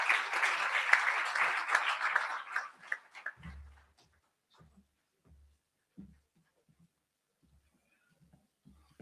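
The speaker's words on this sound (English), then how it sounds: "Please let's clap for him so he can offer the message of support." Audience applause at the Digital Youth Festival Africa 2026 as a speaker comes to the stage, loud and steady for about three seconds, then fading into scattered claps and low thumps.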